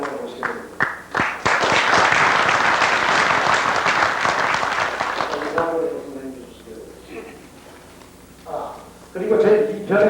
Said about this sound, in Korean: 선생님 잠깐 일어나서 박수 한번 받으시고